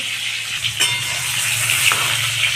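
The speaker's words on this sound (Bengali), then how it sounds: "একটু লাল করে ভেজে নেব" Food frying to a reddish brown in a pan on a home kitchen stove, a steady close sizzle with a couple of short scraping stirs.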